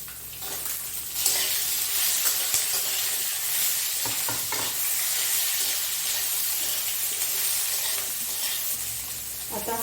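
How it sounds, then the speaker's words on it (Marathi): Medium onions frying with ginger in a pan, a dense, hissing sizzle that holds steady throughout, broken by faint stirring scrapes, close up and without talk. "आता हा कांदा लाल भाजून झाला आहे"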